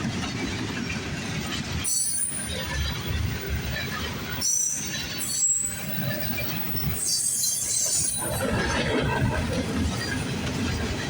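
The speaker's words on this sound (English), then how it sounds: "The symbol for this train is the CSX L424, coming from the Queens Gate Yard in Cincinnati" A CSX L424 freight train from the Queens Gate Yard in Cincinnati rolls past, with rumbling wheels, rhythmic clatter and high metallic squeals rising and fading, and brief bursts of voices in between.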